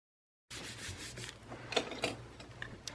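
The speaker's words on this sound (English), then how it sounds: "I just like to use the back of my bone folder or like an old gift card just to make sure that there's no bubbles in my paper" A bone folder is rubbed over glued paper to flatten it during envelope making, giving soft, close scraping strokes in an uneven rhythm, with nothing heard before the rubbing begins.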